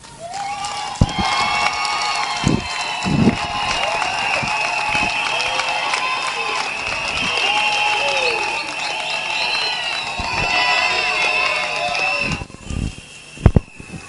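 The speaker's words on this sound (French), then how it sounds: "je demande de l'applaudir fortement" An audience at an ONEM ceremony applauds the director general, with clapping and cheering that builds steadily, holds, then trails off with a few last claps.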